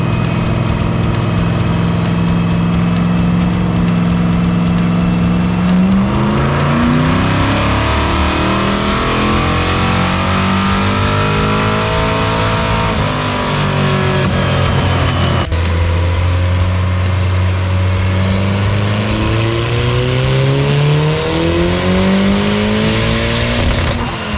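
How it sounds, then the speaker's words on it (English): A 1994 Ford Ranger with a 331 stroker small-block Ford V8 revs loudly and close, its deep rumbling engine rising and falling through repeated throttle blips over a steady, heavy idle. "Got a 94 Ford Ranger, 331 stroker, small block Ford."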